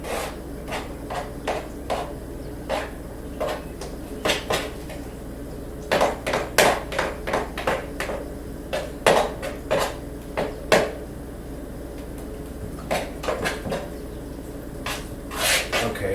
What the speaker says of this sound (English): Now, I just want to mix this enough that the yolks break.